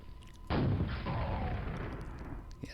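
Rocket launcher fired in a Quake-style shooter game, one sudden loud blast followed by a sustained rushing roar that slowly fades, alone without talk.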